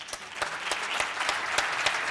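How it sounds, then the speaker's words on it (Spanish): Audience applause at an awards ceremony for a research and innovation conference, a steady wash of clapping from many hands sustained evenly throughout, with no voices over it. "Un aplauso, por favor."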